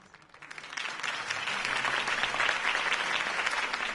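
A crowd in the Batman Telltale video game applauds after a political campaign speech. The clapping swells from near silence into steady, dense applause that holds at a moderate level.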